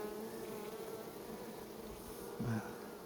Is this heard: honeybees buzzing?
yes